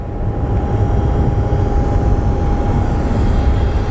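An airliner departs Phoenix Sky Harbor International Airport, a steady loud jet roar with deep rumble and a faint high whine holding throughout, with no voices.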